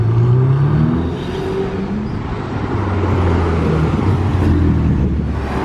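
A Ferrari Pista Spider arrives with a steady engine drone and road noise that swells slightly as it approaches, heard moderately close against a busy traffic background.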